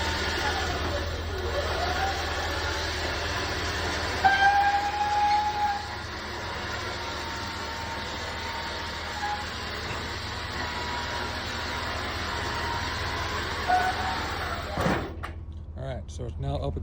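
A roll-off truck's winch reels a dumpster up onto the truck bed: a steady mechanical drone with brief squealing tones, a heavy clank near the end, then quiet.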